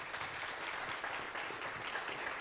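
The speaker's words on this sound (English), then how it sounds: "how about a round of applause for our panelists?" An audience at a conference on public colleges and universities gives its panelists a round of applause, an even, unbroken wash of clapping from a moderately sized room.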